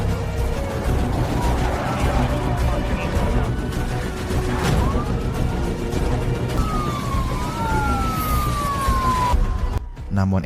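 A police car siren wails with rising and falling glides during a film chase scene, partly masked by a dense background of engine noise, crashes and speech, and cut off abruptly near the end.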